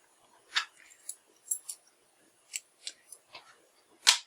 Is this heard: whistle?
no